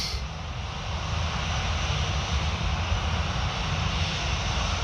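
An EasyJet airliner's jet engines roar steadily at Paris Orly airport, a loud, continuous rushing drone that holds at an even level throughout with no speech.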